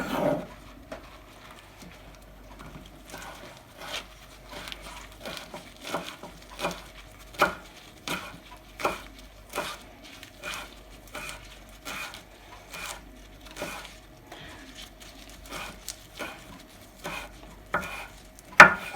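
A knife chops basil on a board in a steady, rapid rhythm of crisp close taps that runs without pause, with no voices over it.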